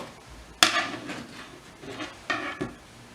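A knife cuts slices from a peeled, cored pineapple on a board, giving one sharp knock followed by a few softer taps and slicing scrapes, close and unaccompanied by speech.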